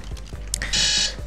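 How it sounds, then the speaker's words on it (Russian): Short bursts of a high electronic alarm clock beeping ring out in quick succession, close and fairly loud, with no voices. "Извиняюсь, будильник у меня сработал."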